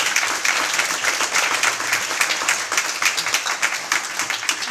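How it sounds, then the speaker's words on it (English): An audience at an anniversary awards program applauds, a dense steady clapping from a crowd throughout. "Let's give them a round of applause."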